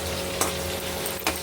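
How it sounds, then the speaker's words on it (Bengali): Pointed gourd (potol) frying in a pan gives a steady, low sizzle throughout, broken by two brief clinks of stirring. "পটল ভাজা হচ্ছে,"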